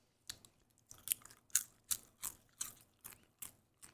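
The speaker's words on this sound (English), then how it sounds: "It squeaks on my teeth." Cheese-flavored popcorn is chewed close to the mic in about nine evenly spaced, squeaky crunches, each sharp and brief against near silence.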